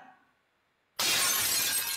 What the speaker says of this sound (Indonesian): Pecah piring kan?